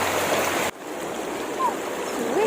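River water flows steadily at a swimming spot, a close, constant rushing wash that briefly drops off after a sharp cut, with faint whistly tones over the flow.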